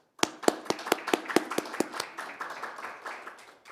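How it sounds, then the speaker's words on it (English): A small group claps, starting with sharp distinct claps that soon blur into a brief, thinning round of applause, fairly close. "Let's welcome Professor Andrew Wilson with a big round of applause."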